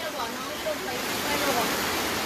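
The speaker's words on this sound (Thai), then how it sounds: "น้ำมาแรงมากค่ะ ขึ้นเรื่อยๆนะคะ ไม่มีว่าจะลด" Fast-rising floodwater from a flash flood rushes past a house in Mueang Loei, Thailand, a broad, roaring wash of water that stays loud and continuous with slight surges.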